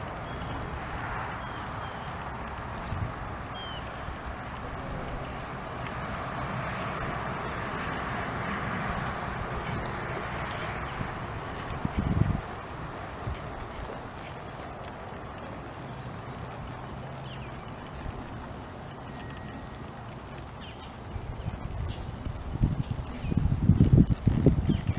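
A ridden horse walking around a circle, soft hoof clip-clops in a steady slow rhythm over outdoor ambience, faint and somewhat distant, with a louder rustling bump near the end.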